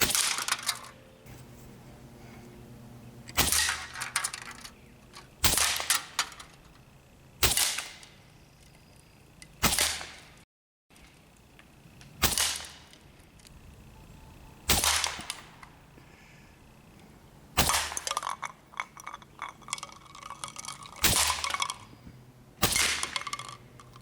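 Air rifle shots from an Evanix Max Air II regulated PCP bullpup striking targets outdoors: about ten sharp, loud cracks at irregular intervals of a few seconds, each with a brief ringing tail, over a quiet background.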